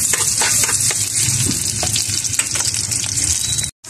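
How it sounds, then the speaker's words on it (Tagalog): Garlic and red onion sauté in hot oil, a loud, close crackling sizzle with occasional stirring scrapes, cutting off briefly near the end. "Isabay na lang na ko ang lunod, ang ahos o ang bombay na pula."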